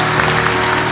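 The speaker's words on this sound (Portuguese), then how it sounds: "Uma grande salva de palmas para Nossa Senhora, para seu Filho Jesus" A congregation applauds together at a Catholic prayer gathering honoring Our Lady, with dense, steady clapping filling the whole second at close range and no voices over it.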